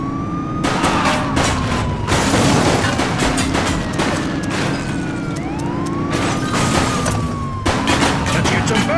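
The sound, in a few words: gunfire shooting at suspect vehicle in video game The Precinct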